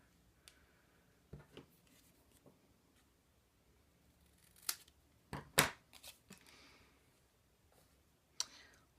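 Scissors trim Stampin' Up! cardstock for a handmade card in a few quiet snips and clicks, with two sharper, louder cuts in the middle and one near the end. No voices are heard.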